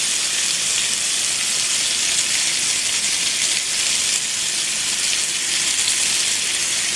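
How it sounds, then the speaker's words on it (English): Bacon-wrapped filet sizzles steadily in a hot skillet, a dense, even hiss of frying fat that holds at a loud, constant level without pause, with no talking over it. "Here's the sizzle."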